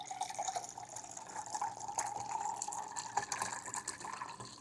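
Water from a tap or hose runs and splashes onto a 3D-printed object outdoors on a hot day, a steady gushing, trickling flow with occasional drips, close and moderately loud throughout.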